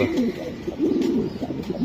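Raced homing pigeons coo close by, a rolling, throaty warble repeated in overlapping phrases with no talk.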